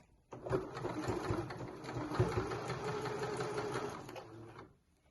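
A sewing machine stitches a drawstring bag at a longer stitch length, starting after a brief pause and running in one continuous whirring, rattling burst for several seconds before stopping.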